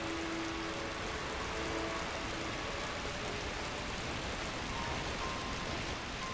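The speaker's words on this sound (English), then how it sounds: "I thought the rain's supposed to stop, unless I need to beat Poseidon." Steady rain falling in the video game Final Fantasy XII The Zodiac Age, a continuous even hiss filling the background throughout with no speech, faint low tones drifting underneath.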